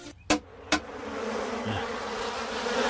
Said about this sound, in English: kill the bees!